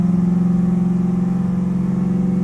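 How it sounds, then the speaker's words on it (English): A Chevrolet Corvette C8 engine on a dyno, holding a loud, steady mid-pitched drone with a strong low hum, with no talk. "Now it's time to put in the gear that you want to do a dyno pull in, probably 4th or 5th. Just let it rip."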